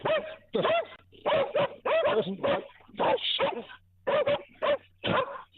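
A dog barks and yips in a quick, irregular series of close, fairly loud bursts with short gaps, heard alone without talk.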